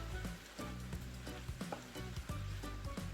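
A pot of Jamaican saltfish and tomato with scotch bonnet pepper bubbles and sizzles steadily up close, a soft continuous crackle broken by light clinks and scattered pops, with no talk over it.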